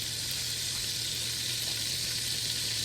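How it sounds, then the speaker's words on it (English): Big meatballs sizzle steadily in a hot pan, a close, loud, even frying hiss that carries on without a break and with no voices. "These are some big meatballs. Hear the sizzle? Love that sizzle."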